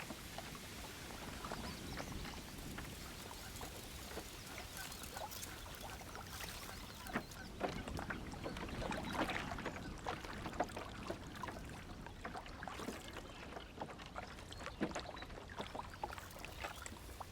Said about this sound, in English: Carefully, I float my canoe along the reed bed.